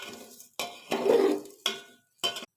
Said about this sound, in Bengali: এবার আমি মেখে রাখা চালগুলো দিয়ে দেবো